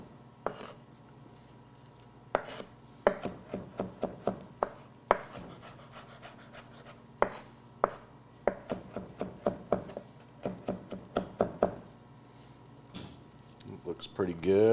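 A knife mincing garlic on a cutting board, sharp irregular taps in quick clusters at close range, with someone talking between and over them.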